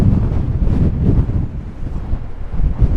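Strong gusting wind buffets the microphone on a golf course during a windstorm, a loud continuous low roar with surges throughout and no talking.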